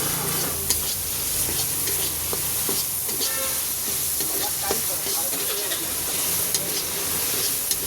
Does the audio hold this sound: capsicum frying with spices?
yes